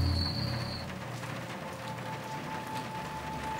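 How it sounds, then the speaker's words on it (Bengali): Steady rain pours outside at night in a Bengali ghost audio story, a continuous soft hiss with faint insect-like chirring, heard alone with no voices. "বাইরে সমানে বৃষ্টি পড়ছে।"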